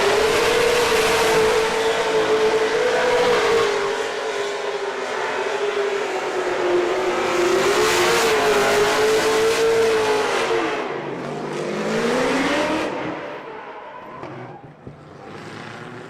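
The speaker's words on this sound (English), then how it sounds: "We are going to let the audience listen to this engine roar for his bye run." A drift car's engine roars loudly during a solo bye run at a Formula D Pro-Am event at Lake Erie Speedway, a sustained high-revving wail that rises and dips with throttle, then fades toward the end.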